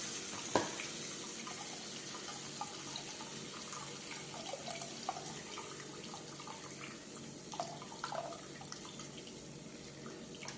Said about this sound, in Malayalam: ഇതിൻ്റെ വെള്ളം മുഴുവൻ ഇതിലേക്ക് അരിച്ചു വയ്ക്കാം.